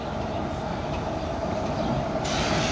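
A steady, loud rumble of a train rolling by close up at Blue Anchor, with a continuous roar of wheels on track and no talking.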